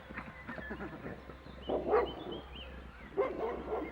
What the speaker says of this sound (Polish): A czemu szczeka?